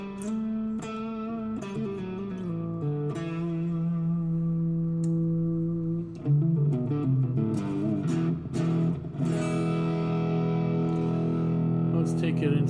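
A walnut-top semi-hollow electric guitar played through its mini humbucker neck pickup rings out with sustained notes and chords, warm and slightly overdriven, close and clear without talk.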